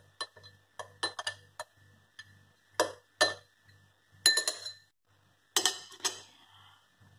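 Egg emulsion for tempera paint being stirred in a small dish, giving sharp, irregular clinks and taps of utensil against glass or ceramic, with quiet pauses between the bursts.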